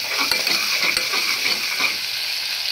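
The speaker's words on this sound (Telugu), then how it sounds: "కలబెట్టేసి సిమ్లో పెట్టేసుకోవాలి" Tomatoes frying in a pan for veg biryani while being stirred, a steady close sizzle broken by a few quick scrapes and taps of the spoon.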